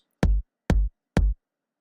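A lo-fi kick drum sample in Logic Pro X with a short release, struck three times at a steady pace, each a punchy low thump cut off abruptly and followed by silence.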